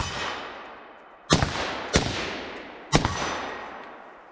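Three sharp reports from a PSA KS47 rifle crack out one after another with uneven gaps. Each is a loud, abrupt bang followed by a quick fading echo over a low outdoor hiss.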